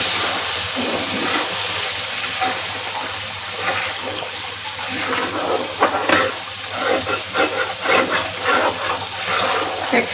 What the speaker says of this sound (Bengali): এখন দিয়ে নেব এর মধ্যে সামান্য পরিমাণ পানি।